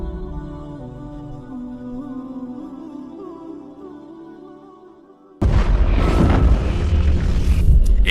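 A deep explosion boom effect in a sermon bursts in suddenly after a stretch of low, sustained tones, then rumbles on loud and heavy without fading to the end.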